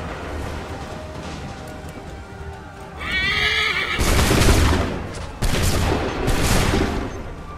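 A musket volley rings out at the Battle of Lexington in Assassin's Creed III Remastered, a loud broadband crack followed by a second burst, amid neighing horses and clip-clopping hooves.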